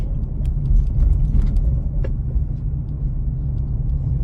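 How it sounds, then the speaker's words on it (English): Heavy traffic on 2nd Street, a continuous low rumble of cars and engines passing nearby, steady and fairly loud with no voices. "Boy, there is a lot of traffic today."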